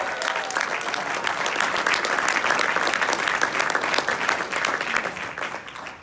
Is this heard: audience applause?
yes